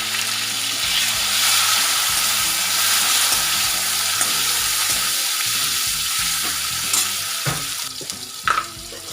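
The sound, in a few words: tomatoes frying with carrot and capsicum vegetable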